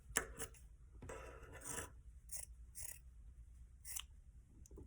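Scissors snip through the heel of a white cotton sock, producing a few faint, close crisp cuts and soft fabric rustles in a quiet setting.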